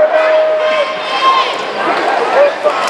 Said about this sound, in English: The crowd reacting to the replay showing above.